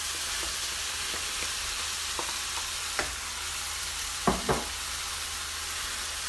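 Shrimp and vegetables sizzle steadily in a hot pan for shrimp fried rice, with a constant frying hiss broken by a few sharp clacks of a utensil scraping and stirring, the loudest pair near the end.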